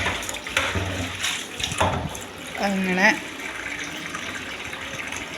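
Water being poured from a tap into a pot, a gushing stream that rises in pitch as the pot fills, with a person speaking briefly over it.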